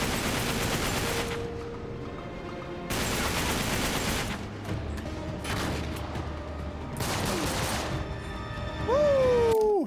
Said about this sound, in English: kill 20 enemies with gunfire while hanging